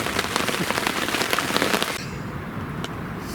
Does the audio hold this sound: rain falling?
yes